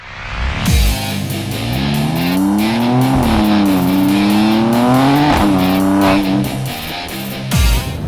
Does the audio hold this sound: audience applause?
no